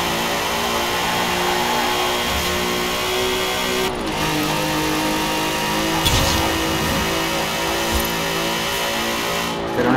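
A Volkswagen Golf MK4 engine in the racing game Forza Horizon 4 holds a loud, steady, buzzing drone. Its pitch drops at a gear change partway through, then it climbs and holds again.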